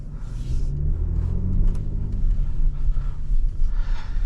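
A 2025 Infiniti QX80 Autograph pulling away on the road, heard from inside as a steady low engine rumble that rises gently as it accelerates, with road noise underneath.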